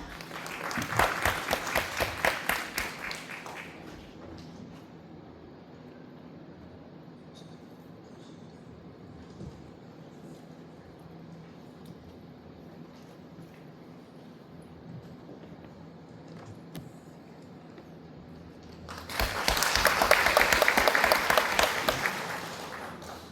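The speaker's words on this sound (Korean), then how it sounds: "여러분 큰 박수 부탁드리겠습니다" Applause at a Korean maritime literature award ceremony bursts loudly for a few seconds, fades into a long stretch of quiet room tone, then swells again as a second loud round of clapping near the end.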